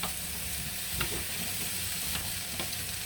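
Apples cooking in a pan for a raspberry crumble, a steady close sizzle and bubbling with a few scrapes from stirring, with no one speaking.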